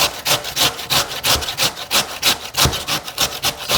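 Potatoes being grated by hand on a box grater for crusty potato cakes, steady rhythmic rasping strokes about three per second, loud and close, with no voices.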